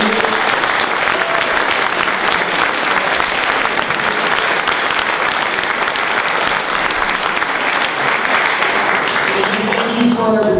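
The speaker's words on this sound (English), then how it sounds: "How about one last round of applause for all of the people?" An audience at a city council candidate forum in a warm room gives a long, loud round of applause, thick continuous clapping with faint voices underneath and a trace of talk at the end.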